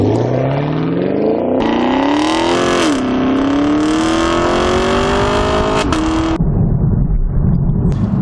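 A 2019 Chevrolet Camaro ZL1 engine revs hard and launches, its pitch climbing through gears with brief shift dips, loud and close, then dropping to a rougher drone.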